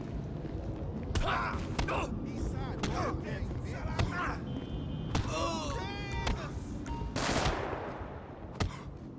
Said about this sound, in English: His gun went off.